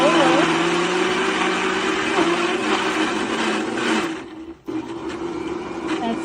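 A Magic Bullet 600W blender runs on low speed, mixing vanilla yogurt and frozen berries into a smoothie; a steady whirring motor drone holds close and loud, dipping briefly near the end before resuming.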